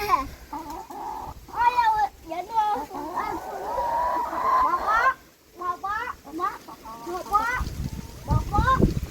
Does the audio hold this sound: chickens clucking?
yes